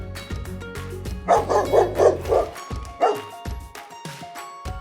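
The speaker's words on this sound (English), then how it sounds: "Dog." A dog barks in a quick run of about five yaps, then gives one more bark after a short pause, loud and close with no talk over it.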